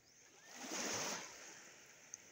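Strong sea waves roll in at a swimming spot, a faint, distant wash of surf that swells to a soft peak and then recedes, with steady background hiss.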